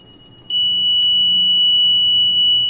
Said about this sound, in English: then buzzer start ringing.